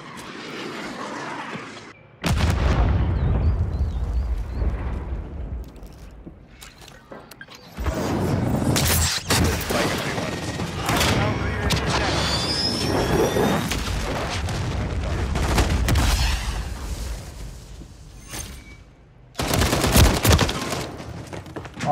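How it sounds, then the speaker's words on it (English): Cruise missile strikes in Call of Duty MW3 on the Quarry map: loud, heavy booming explosions and rumbling blasts mixed with gunfire, sustained in several long bursts with short quieter gaps, no talk. "Friendly cruise missile deployed."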